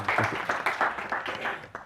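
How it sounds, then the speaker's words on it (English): Brief applause from a lecture audience, a short burst of scattered clapping that fades quickly, fairly faint. "Dao, applause for Dao."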